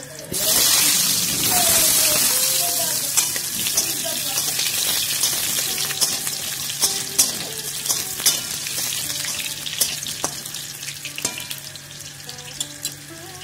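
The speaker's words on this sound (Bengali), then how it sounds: "দেখুন আমরা আলুগুলো মোটামুটি ভেজে নিয়েছি।" Potatoes frying in hot oil in a kadai: a bright, bubbling sizzle that surges loudly at first, then settles into steady crackling, with scattered utensil clinks and taps.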